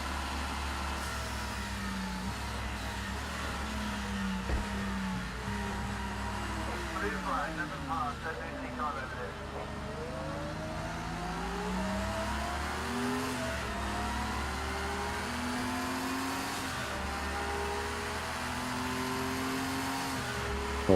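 Porsche 961 race car engine in the racing game Project CARS 2, a steady sustained drone with rising and falling pitch sweeps as it revs through gears, continuous and fairly loud throughout.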